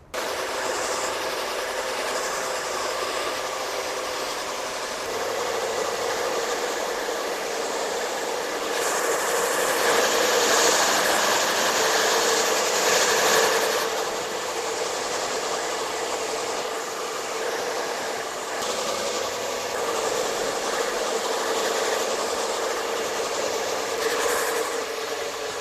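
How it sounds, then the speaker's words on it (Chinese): A hair dryer blowing hair dry during a perm styling session runs as a continuous loud roaring whoosh that swells and eases as it moves, with no voices. "现在呢，我们把头发全部吹干"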